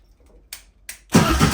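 A starter motor cranks the Subaru engine in a Covin Porsche 911 replica, with two short clicks followed by a loud burst of churning, close and dense, with no talking.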